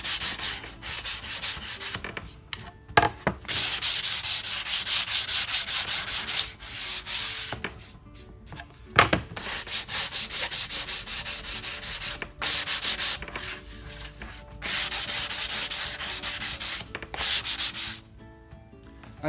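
Steady rhythmic scraping of hand sanding on an eight-sided wooden piece, long continuous strokes broken by short pauses, close and fairly loud with no talking.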